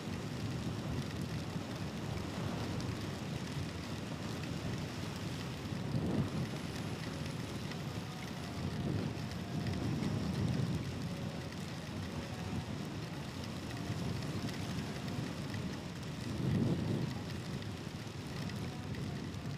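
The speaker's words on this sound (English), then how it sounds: "As much as I like rain riding," Steady rain and wind rush past a rider on the road, a dense, continuous wash of noise with a few swelling gusts and a low rumble underneath.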